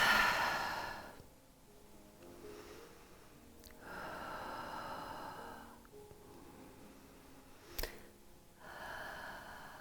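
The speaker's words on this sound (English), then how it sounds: "deepen the breath." Slow, deep breaths during a sunrise yoga session, heard as several long soft inhales and exhales in a steady rhythm, close and quiet, with faint sighing releases and no talking.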